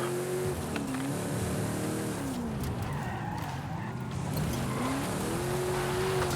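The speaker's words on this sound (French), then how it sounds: "comme ça se voit que c'est un véhicule de propulsion, on voit qu'il dérape beaucoup. Il dérape même trop" A 1973 Pontiac Firebird Trans AM SD-455, a rear-wheel-drive car in Forza Horizon 5, skids with drawn-out rising and falling tire squeals over a steady loud engine drone that runs through the whole stretch.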